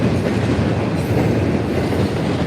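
A train locomotive crosses a bridge with a loud, steady rumble of wheels on rails and a faint clickety-clack, heard up close with no talking.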